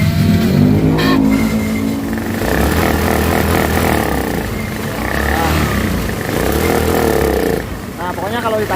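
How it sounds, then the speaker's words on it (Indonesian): A Honda Beat or Scoopy fuel-injected scooter with a misfiring, hard-starting engine revs up close by and bogs down when the throttle is opened, the uneven engine drone running under a man's speech throughout. "Nah pokoknya kalau ditarik gas ngempos nih."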